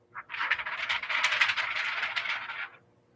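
A sheet of 20-pound paper shaken by hand gives a steady crisp rattling flutter for about two and a half seconds, close and fairly quiet, with no talk.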